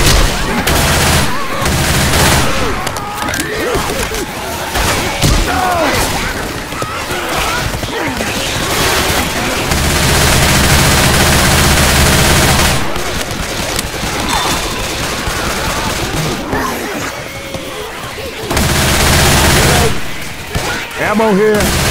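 Gunfire in the video game Left 4 Dead 2, dense bursts of automatic and shotgun fire with crashes and booms, loud and nearly continuous, with players' voices talking over it.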